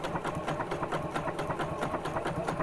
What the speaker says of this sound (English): I'm just going to feed this underneath the machine slowly around the curves